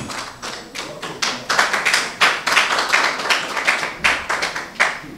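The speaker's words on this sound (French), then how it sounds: "C'est par des acclamations nourries que l'Assemblée a accueilli cette nouvelle importante." An assembly claps loudly and rhythmically in reaction to election news: close, sharp bursts of hand clapping that swell and fall in repeated waves, with no clear voices.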